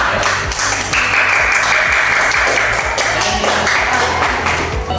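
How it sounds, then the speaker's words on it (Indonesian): A classroom applauds a student group, steady clapping from many hands under a loud ringing tone and other classroom noise. "tepuk tangan untuk kelompok Abang Gan"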